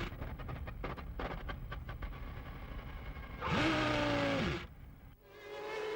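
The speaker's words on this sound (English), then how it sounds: "his fuel pump packs up and you can hear the car spluttering" A 1995 Benetton Formula 1 car with a failed fuel pump sputters and cuts out, broken bursts of engine noise giving way to a louder, steadier mechanical roar and then a sharp drop-off.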